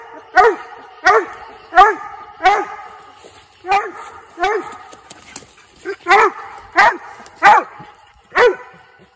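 A hunting dog bays repeatedly at an animal it has treed, about a dozen loud, evenly spaced barks with short gaps between them, while someone talks quietly in the background.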